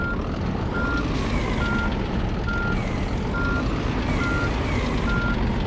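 A Scania R Series truck backing up on a local delivery, its reversing alarm beeping in a regular steady rhythm over a loud continuous diesel engine rumble, close and with no talk.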